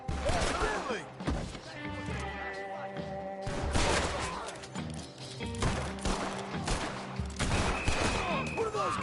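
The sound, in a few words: gunfire in Red Dead Redemption video game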